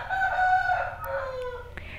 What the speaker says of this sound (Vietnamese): Sao mà gà nó gáy dữ vậy?